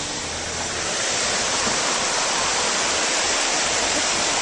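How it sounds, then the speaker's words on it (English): Rushing floodwater from Hurricane Irene roars steadily in Vermont, a loud, continuous broadband torrent like a waterfall with no letup and no voices over it. "that's a lot of water. If you were to step in that, you would be sucked away immediately."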